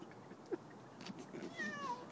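A cat stuck up a tree gives a couple of faint, thin meows, distant and quiet over a low background hush, with no talking.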